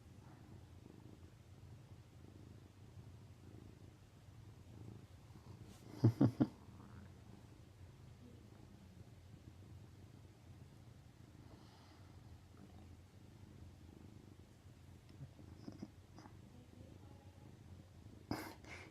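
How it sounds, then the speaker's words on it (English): A tired cat purrs softly while dozing, a low continuous rumble close by, with a few brief snorts and light handling bumps breaking the quiet. "Cat's tired."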